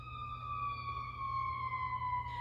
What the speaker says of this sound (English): that might be an ambulance.